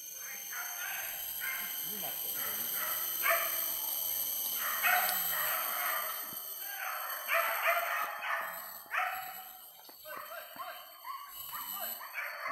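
Dogs on a wild boar hunt in Pontian, Tanjung Bonai Aur, bark and yip excitedly at middle distance in bursts under people talking.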